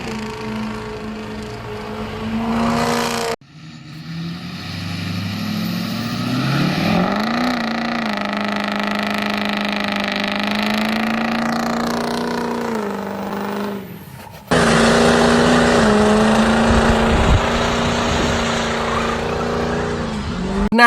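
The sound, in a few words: diesel pickup truck driving and revving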